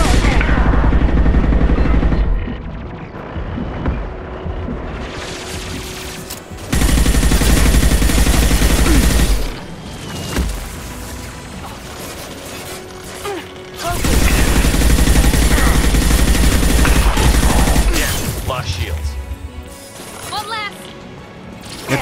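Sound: sniper rifle gunfire in Mass Effect 2 video game

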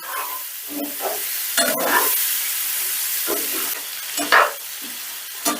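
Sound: stirring paneer with spices frying in a pan

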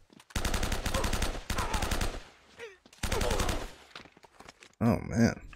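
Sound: machine gun fire in the video game Uncharted: Drake's Fortune

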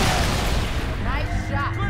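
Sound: gunfire in Halo: Reach video game

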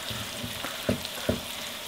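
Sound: onion and garlic frying in a pan

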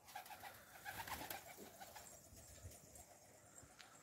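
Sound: stray pigeon cooing

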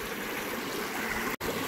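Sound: babbling brook water flowing

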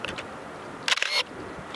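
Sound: Canon EOS 600 film camera motor drive whine

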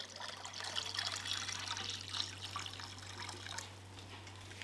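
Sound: cold water poured into a bucket

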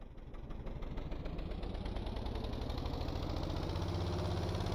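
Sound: engine revving in the video game Stormworks

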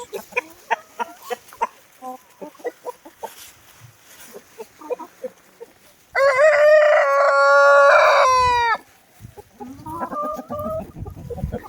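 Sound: rooster crowing

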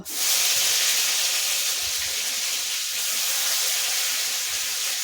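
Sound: spices frying in oil with bay leaf and five-spice

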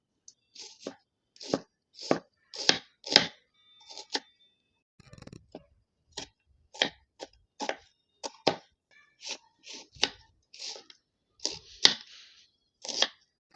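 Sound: chopping onions with a knife

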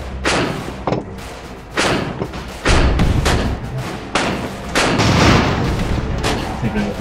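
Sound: bombs exploding in the video game Airships: Conquer the Skies

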